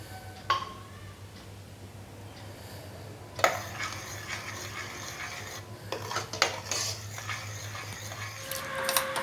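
Two cups of guava pulp boiling over a medium flame in a pan for homemade guava jam, with a spoon stirring and scraping against the metal in uneven bursts over a low steady hum.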